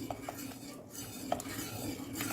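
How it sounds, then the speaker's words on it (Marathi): Rice flour mixture for chakli is stirred in a pot, giving a soft, continuous scraping with a few light clinks of the spoon against the vessel, quiet and close. "पटपट पटपट मिक्स करून घ्यायचं"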